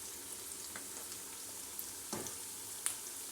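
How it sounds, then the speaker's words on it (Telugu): Ginger garlic paste fries in hot oil with a faint, even sizzle and a few soft stirring knocks, with no talking. "1 నిమిషం ఫ్రై చేసుకుందామండి"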